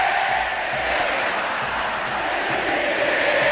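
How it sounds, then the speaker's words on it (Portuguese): Argentine football fans singing together in the Monumental stadium during a World Cup qualifier against Ecuador, a broad continuous roar of crowd chanting that holds steady and fills the space without pause. "Ouça o torcedor, a torcida argentina, cantando no Monumental de Nunes"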